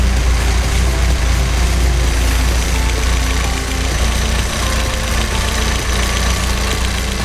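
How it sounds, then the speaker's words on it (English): A warmed-up engine idles steadily and loudly up close, a continuous low rumble with a slight knocking texture and a faintly noisy pulley, settling down in pitch without pauses. "Starting to idle down already."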